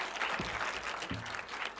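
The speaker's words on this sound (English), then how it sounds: "big applause to the master brain behind it." An audience at a college event claps in a dense burst of applause that stays steady throughout, with no cheering or speech over it.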